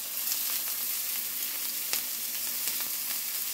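Onions and smoked peppers saute in a pan, giving a steady, close, even sizzle with faint crackles and no talking.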